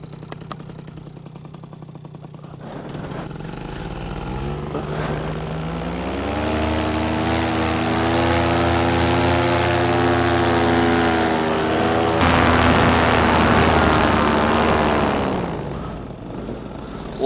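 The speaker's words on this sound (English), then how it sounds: "Engine started back." A paramotor engine starts outdoors on a very windy shore and climbs into a steady propeller drone, holding a loud even pitch for several seconds before easing back down.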